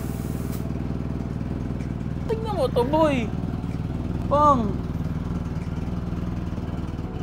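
A 50-year-old Mercedes-Benz 115 engine idles with a steady, sputtering motorcycle-like putter throughout, while someone speaks briefly over it.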